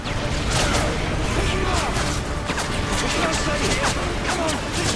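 Dense, continuous gunfire from the Call of Duty Modern Warfare 3 video game fills the scene, with rapid overlapping shots and bursts loud and close throughout.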